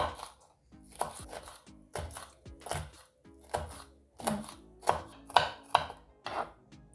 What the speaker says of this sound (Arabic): غادي نشدو هاد الفلفله هادي، غادي نحاولوا نقطعوها بحال هكا